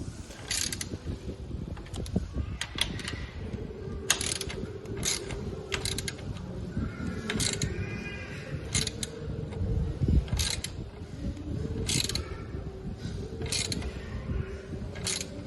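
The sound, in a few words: T-spanner tightening bolt on Ninja 300 linkage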